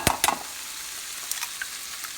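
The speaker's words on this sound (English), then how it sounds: "About peppers frying here." Peppers frying in a pan with a soft, steady sizzle, a couple of sharper clatters from stirring at the start and a few faint pops later; close and quiet, no speech.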